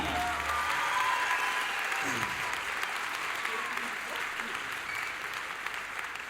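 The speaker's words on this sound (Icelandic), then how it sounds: "Má ég gera gott klapp fyrir því?" A large audience at the Tónkvíslin 2010 music contest claps steadily for several seconds, dense applause filling the hall and slowly tapering, with a voice briefly audible at the start.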